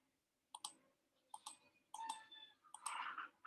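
Someone types on a computer keyboard with a few quiet, close clusters of key clicks separated by short pauses, against a faint room hum with no talking.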